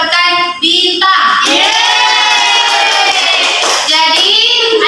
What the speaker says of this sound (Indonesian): Siapa yang sudah tepuk tangan untuk temannya yang telah mendapatkan bintang.